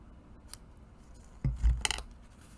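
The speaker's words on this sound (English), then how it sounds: "My scissors to trim this off." A few crisp scissor snips trimming paper close by in a quiet room, a faint click early, then a louder cluster of cuts near the end.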